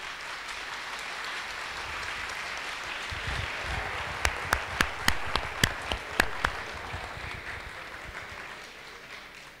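At the closing of an annual university workshop, an audience applauds for Programmer's Day with a dense wash of clapping. A few louder, sharp claps ring out near the middle before the clapping tapers off at the end.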